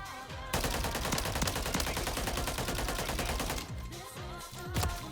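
Rapid automatic fire from the Holger gun in Call of Duty MW3 multiplayer, a long, loud burst of evenly spaced shots, a brief pause, then a few more shots.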